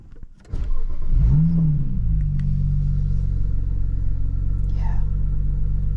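A BMW engine cranks and catches after a battery swap, then settles into a steady, loud idle rumble close by with no talk over it.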